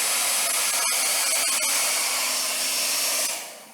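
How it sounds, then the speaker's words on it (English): A hair dryer blows a steady, loud, broadband rush of air, held constant for several seconds before tapering off at the end, close by and with no talk over it. "when I turn the hair dryer"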